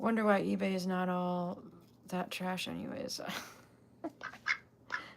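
A pet duck quacks in a run of nasal, harmonic calls at the start and again in the middle, fairly close, while a person talks over and between the calls.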